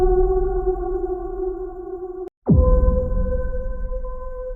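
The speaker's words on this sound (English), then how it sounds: "Ping." Cinematic trailer ping effects from the RT Sonics Cinematic World library: sustained metallic tonal rings that drop out briefly, then a sharp sweeping hit leads into another resonant ringing tone, clear and prominent with no talking.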